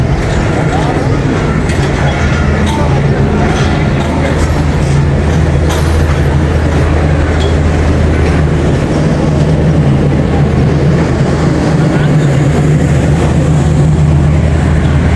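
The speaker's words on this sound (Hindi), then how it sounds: "हमारे साथ सफारी ट्रेन का डिपार्चर" A Safari train departing Rawalpindi railway station rumbles steadily with a low, continuous drone and rattling, heard up close for the whole stretch, with faint murmurs of people in the background.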